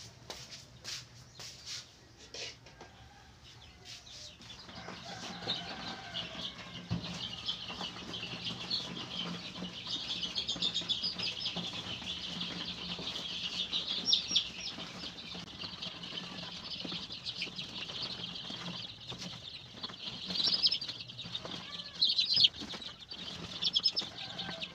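Baby chicks peep and chirp continuously while being picked up and moved after hatching from incubated eggs, a busy high-pitched chorus of many birds with rustling and handling noise throughout.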